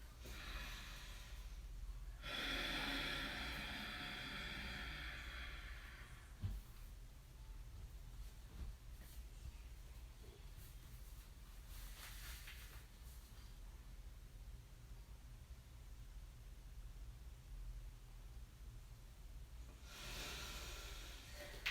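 Forceful breaths during a Mula Bandha yoga exercise: a long, rushing breath early on, then quieter, and another strong breath near the end. The breathing is close and loud over a low room hum, with no talking.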